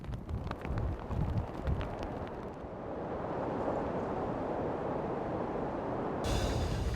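Wind sweeps across a ski slope during a competition, a steady, broad rushing that grows after a few seconds of rougher, clattering noise and carries on without anyone speaking.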